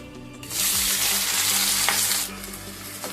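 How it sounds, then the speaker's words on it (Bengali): Chopped onions dropped into hot oil in a wok, the sizzle surging loudly after a quiet start, holding strong with a stirring scrape, then falling back near the end. "এবার তেলটা কড়াইয়ের তেল গরমের মধ্যে এই কুচানো পেঁয়াজগুলো দিয়ে দিচ্ছি।"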